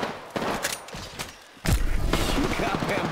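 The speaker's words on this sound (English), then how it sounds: "I am taking fire, friends." Gunfire in the video game Apex Legends, duo mode: a few sharp shots early, then a loud dense burst of rapid fire that continues to the end, close and prominent.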